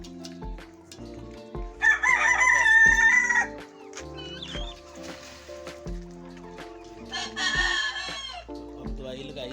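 Rooster crowing with hens clucking in a backyard flock where birds are being treated for comb problems, two loud crows a few seconds apart over steady nearby clucking, with someone talking in between.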